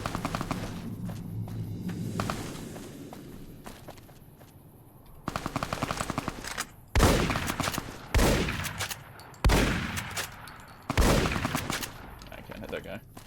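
Bursts of automatic gunfire from the Fallout: New Vegas video game, several loud rapid volleys separated by short pauses after a quieter stretch.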